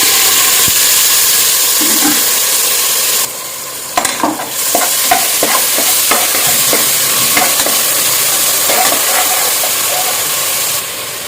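Fenugreek and fennel seeds fry in hot oil in a pan for a Kerala beef curry, a loud, steady close sizzle with occasional stirring clinks and scrapes across the pan.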